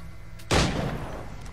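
A single gunshot rings out in Assassin's Creed III, a sharp, loud blast that fades into a short rumbling tail.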